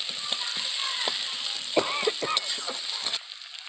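Chopped onions sizzle and crackle in a hot pan with scattered stirring clatter, close and steady, under a faint hiss.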